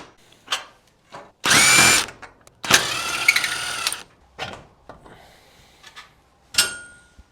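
A power tool whirs in loud bursts of roughly a second each while removing bolts from an old building, with short clicks and knocks between them.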